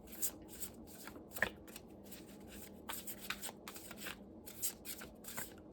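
Oracle cards from a Shaman Oracle deck being shuffled by hand, giving a string of quick, soft riffling bursts and papery flutters at an uneven rhythm, close and quiet, with no talking.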